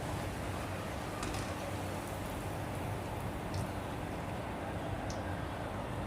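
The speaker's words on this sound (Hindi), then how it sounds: "यहाँ पे तेल गरम हो चुका है और इसमें आप फ्राई कर लूँगी।" Puris fry in hot oil with a soft, steady, crackling sizzle that continues evenly throughout, fairly quiet and with no talking over it.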